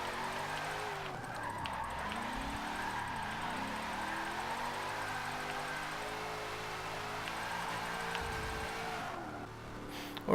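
A drift car slides sideways in Forza Motorsport 7 at Lime Rock, its engine note rising and falling steadily for about ten seconds with a continuous, moderately loud whine.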